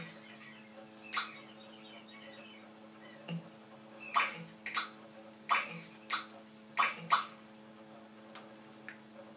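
A dog in The Sims 3 gives a series of short, sharp barks or yelps, about eight bursts clustered in the middle, fairly close and alone over a quiet background.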